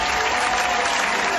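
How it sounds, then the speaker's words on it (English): Dense, thunderous applause plays as a brief, loud, continuous burst on a movie podcast. "Thunderous applause for the man."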